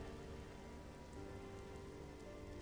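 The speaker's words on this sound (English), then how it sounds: "The day shifts to clouds, to rain, as the ground turns to mud beneath your feet." Steady rain patters on a surface in a continuous soft hiss, close and even, with no voices.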